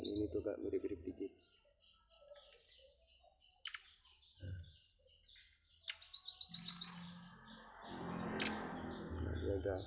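A murai air, or magpie-robin, sings in short separate bursts of bright chirps and whistled trills, close but soft, with pauses between phrases, scattered clicks and a voice talking at the start and end.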